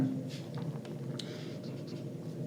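Marker or chalk scratching across a board during a class 10 maths lesson on statistics, a soft continuous scraping with brief strokes over a low room hum.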